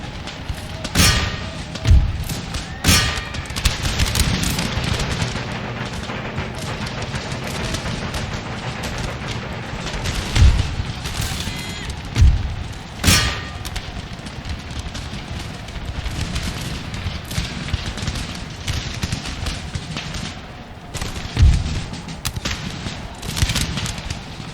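Empire Total War battle at Hannover with Saxony forces: scattered booming musket and cannon volleys thud repeatedly over a steady rumbling battlefield din, some reports louder and nearer, others distant.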